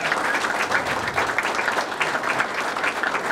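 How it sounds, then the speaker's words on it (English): Sustained audience applause at an awards dinner, a steady dense patter of many hands clapping with no voices on top, filling the room evenly throughout. "Another round of applause for her."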